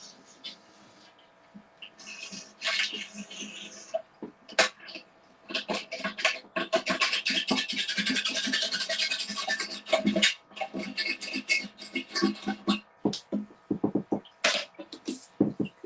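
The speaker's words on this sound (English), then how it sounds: "Allow me to scrub a little bit." Scrubbing on a tank surface during a workshop project, heard as a dense run of close, rough rasping strokes with irregular rhythm and brief pauses, mixed with short scratches and a few breathy noises.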